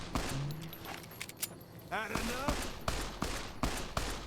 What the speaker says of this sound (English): there's guys on the horizon shooting